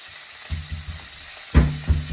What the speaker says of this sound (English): Just turn, flip the steak, looking good.